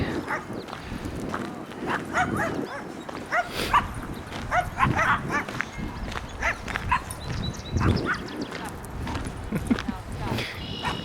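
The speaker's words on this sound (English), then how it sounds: "That puppy going crazy." Excited puppy barking outdoors along a walking path at a spring retreat in Traverse City: repeated yips and barks scattered throughout, mixed with people talking and footsteps nearby.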